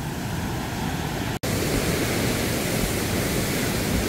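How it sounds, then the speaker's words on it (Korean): A waterfall in Bansagol Valley on Jirisan roars as a full, constant rush of falling water, loud and close, unbroken except for a split-second cut near the middle. "여기에 거의 뭐 방금 전에 위에서도 폭포 있었는데 여기서도 폭포예요."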